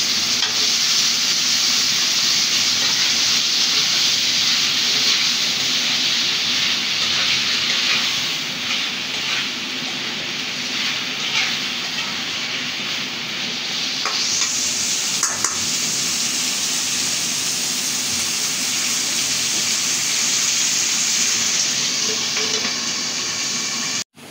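Potatoes being sautéed in a pan, a loud continuous sizzle with intermittent stirring scrapes close by, the hiss shifting in tone partway through before ending abruptly.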